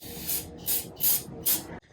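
Four short bursts of carb cleaner sprayed onto a Yamaha R6 motorcycle chain, each a sharp hiss lasting about a quarter second, evenly spaced and close to the listener.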